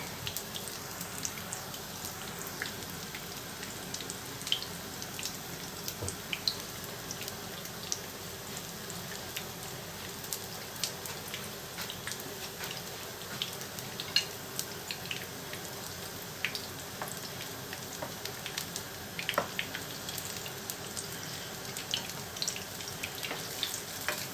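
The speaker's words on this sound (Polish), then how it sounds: "I teraz to się niech smaży" Steady crackling and popping of semolina pancakes frying in a pan, a continuous sizzle with scattered sharper pops, no voices.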